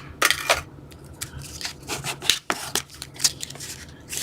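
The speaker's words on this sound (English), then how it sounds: "Now we're going to go ahead and varnish" A brush lays varnish onto a small lip balm box in repeated short, dry strokes. The soft scratchy swishes come close and in an uneven rhythm, with no talk.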